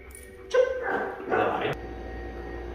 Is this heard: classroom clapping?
no